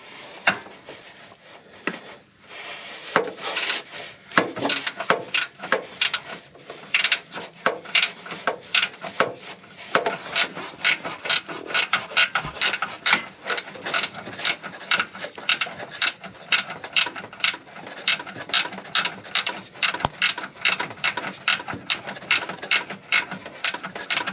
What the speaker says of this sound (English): that long handle flexi head 30mm spanner I've shown you just now is ideal for this